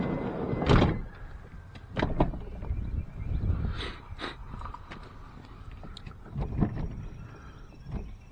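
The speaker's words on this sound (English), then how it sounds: "It'll just function like a normal sliding door." Manual operation of a 2015 Honda Odyssey sliding door with a broken cable: a series of clunks, rolling rumbles and latch thuds spread across several seconds, close by, with no talking.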